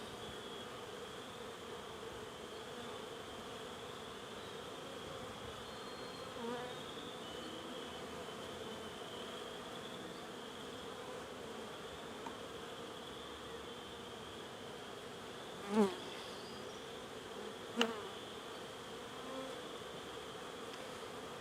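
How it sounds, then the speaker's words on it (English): Honey bees buzz in a steady, soft, continuous drone during a springtime hive inspection, with a couple of brief knocks near the end and no voices. "these are good bees."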